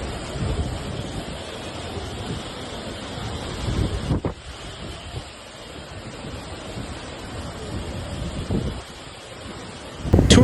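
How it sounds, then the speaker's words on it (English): Strong wind roars over crashing surf on a white sand beach in Tulum, Mexico, during Hurricane Beryl, gusting unevenly with a few sharp bursts buffeting the microphone; no voices. "As the wind began gusting over Tulum's white sand beaches on Thursday afternoon"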